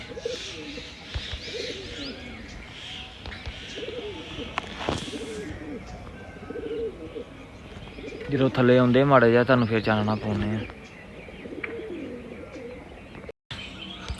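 Pigeons coo in a short, rolling burst partway through, close by, while someone talks over scattered chirps and outdoor background noise.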